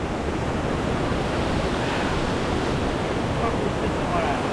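Owia Waterfalls in St. Vincent gives a loud, continuous broadband rush of falling water, steady and close throughout with wind buffeting the microphone.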